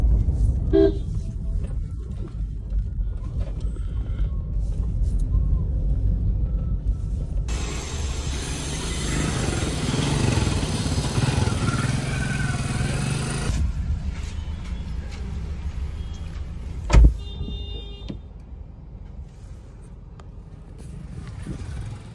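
Heavy road traffic rolls past on a rainy day during the Ganesh festival as a steady rumble of engines. A car horn gives one brief toot, with louder passing noise in the middle stretch.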